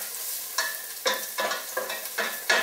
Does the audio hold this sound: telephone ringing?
no